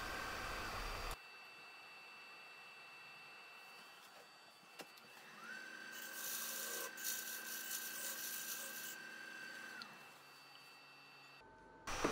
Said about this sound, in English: I'm just going to use a parting tool to get down to the correct outside diameter